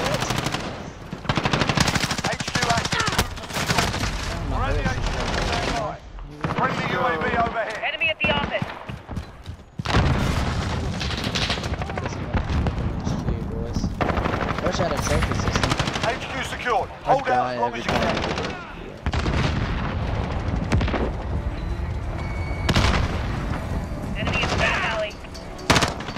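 Rapid automatic gunfire and explosions from the Call of Duty: Modern Warfare video game, with dense bursts of shots rattling almost continuously, interrupted by brief pauses, while players talk over it.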